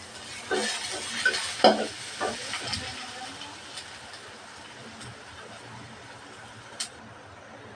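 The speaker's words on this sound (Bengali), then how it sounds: "পেঁয়াজটা ভালোভাবে ভেজে নেবো দিয়ে দেবো দারচিনি লবঙ্গ এলাচ দুইটা তেজপাতা" Chopped onion frying with cinnamon, cloves, cardamom and two bay leaves for a chicken and potato curry, giving a soft sizzle under a few spoon scrapes and knocks early on, then a quieter hiss with occasional clinks.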